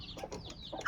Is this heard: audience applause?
no